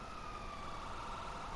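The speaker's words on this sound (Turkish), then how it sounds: "Bu siren ne?" A police siren in the GTA 5 video game wails steadily through a short burst, a continuous high tone over constant background game noise.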